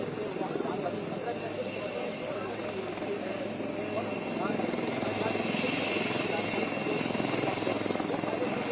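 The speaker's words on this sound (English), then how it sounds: "the light combat helicopter with the Honorable Prachand on board, which, after carrying out majestic maneuvers, has landed and is now taxiing back towards the dispersal" A HAL Prachand light combat helicopter taxiing after landing at an air force display gives a continuous loud rotor and turbine roar with rhythmic blade chop, while an announcer speaks over it.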